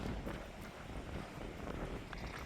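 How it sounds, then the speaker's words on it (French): Steady, heavy wind roars across the microphone with a dense, rushing noise on the coast at Sagres, Portugal, and no voices. "Il y a encore pas mal de vent"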